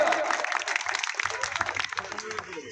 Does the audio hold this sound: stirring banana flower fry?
no